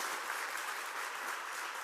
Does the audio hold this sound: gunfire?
no